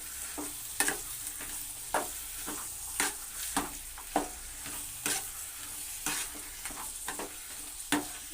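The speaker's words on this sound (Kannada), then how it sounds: "ಬೀನ್ಸ್ ಹಾಕ್ಬಿಟ್ಟು ಒಂದು ಸ್ವಲ್ಪ ಹುರಿತೀನಿ ಮಸಾಲೆ ಹಾಕಿ" Carrots, beans and masala frying in oil in a pan, a steady soft sizzle broken by regular scraping knocks of a spoon stirring roughly every second, close and without speech.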